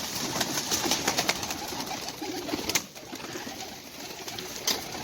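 Kasuri pigeons cooing on a rooftop loft in Sialkot, soft repeated coos amid a busy, noisy background with occasional wing flutters, no voices.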